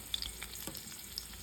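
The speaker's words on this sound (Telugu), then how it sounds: "కళాయి పెట్టుకొని ఆయిల్ వేసి పోపు వేసుకోవాలి." Tempering spices fry in hot oil in a kadai, giving a soft, steady sizzle with a few small crackles, quiet and close with no talking.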